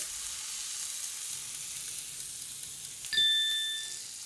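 Thick scallops sear in a hot pan with a steady, even sizzle, alone and fairly close, followed near the end by a short, bright electronic ding or beep ringing out over it.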